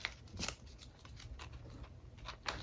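Soft papery rustles and crisp creasing sounds as a sheet of paper is folded across for an origami-style craft, faint and close, in a few quick bursts with no talking.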